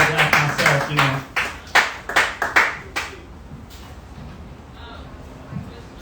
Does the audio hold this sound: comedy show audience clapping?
yes